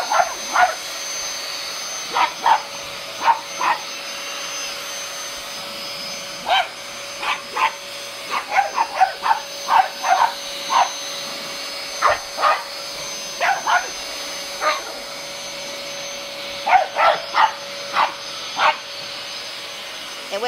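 A vacuum cleaner whines steadily while a pug barks in short repeated bursts, sometimes in quick clusters, loud and close.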